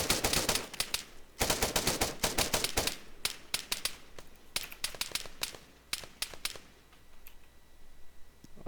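Gunfire from the Arma 3 video game cracks in rapid bursts and scattered single shots, loud and sharp at first and then thinning out toward the end.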